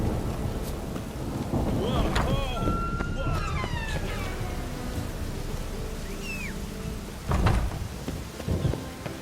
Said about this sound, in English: The storm, damn it. The rain will ruin it!